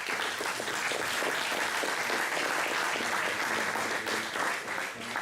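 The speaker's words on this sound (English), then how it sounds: "Let's give Alexander a round of applause" Steady, dense applause from a conference audience at the OpenSIPS Summit in Valencia, sustained and fairly loud for the whole stretch with no speech over it.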